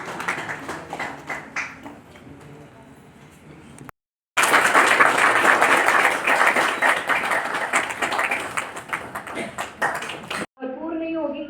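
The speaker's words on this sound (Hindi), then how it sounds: "तालियों से स्वागत करते रहिए" Audience applause at a university convocation ceremony in Indore: dense crowd clapping that swells after a brief gap and stays loud. A voice over a public address system speaks during the quieter opening section.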